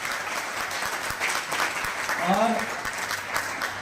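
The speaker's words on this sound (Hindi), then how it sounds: "मैं चाहूंगा इनके लिए एक बार जोरदार ताली होनी चाहिए" An audience at a business seminar gives loud, continuous applause that fills the room, while a voice speaks briefly over the clapping partway through.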